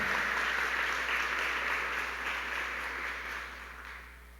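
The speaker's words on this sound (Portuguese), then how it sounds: "Aplauda Jesus por essa palavra." A church congregation claps after a sermon and prayer, a broad steady round of applause that holds, then gradually fades toward the end over a low constant hum.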